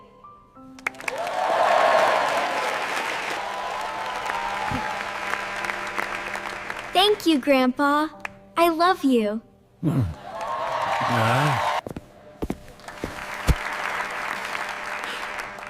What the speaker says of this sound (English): Everyone is clapping for you.